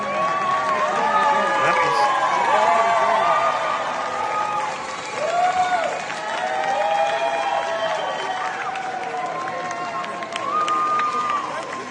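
A played sound effect of a crowd cheering: many voices whoop and shout together with scattered clapping, loud and sustained throughout.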